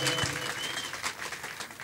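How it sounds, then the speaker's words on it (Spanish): An audience in San Juan Girón, Santander claps in scattered applause under a speaking voice, fairly quiet and brief. "Desde ya escuché aplausos por San Juan Girón."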